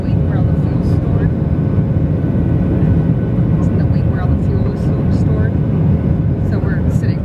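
Jet airplane engine noise is heard from inside the cabin, seated over the wing: a loud, steady roar and rush that runs unbroken throughout.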